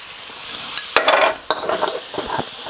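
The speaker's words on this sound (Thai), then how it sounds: "ผัดนะครับ ผัดให้หอมนะครับ" Canned fish and tomato sauce sizzle in a hot pan while being stir-fried, with a steady frying hiss broken by sharp scrapes and clacks of the spatula, close up and with no talk.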